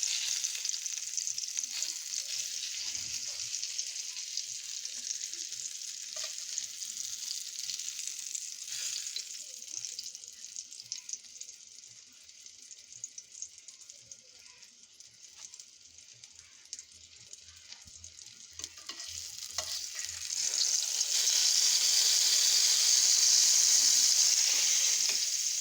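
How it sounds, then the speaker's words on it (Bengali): Eggplant slices frying in hot oil give a steady, bright sizzle that stays close and continuous, growing louder near the end, with no voices. "বেগুন ভাজা"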